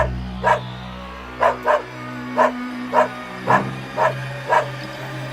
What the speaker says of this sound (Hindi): तुम पंडित जी की तरफ देखकर क्यों भौंक रहे हो?